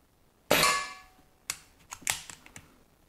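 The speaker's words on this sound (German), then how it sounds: "Okay, das waren die 9 Schuss." A Diana Bandit air pistol fitted with a regulator fires one sharp, loud crack up close, followed by a scatter of quieter metallic clicks and clacks from handling the gun.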